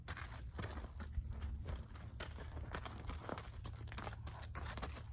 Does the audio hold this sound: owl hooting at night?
no